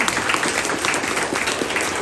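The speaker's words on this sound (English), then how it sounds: "Please give a round of applause, please." Audience applause at a county political debate, a dense steady burst of clapping from many hands, close and even, with no talk over it.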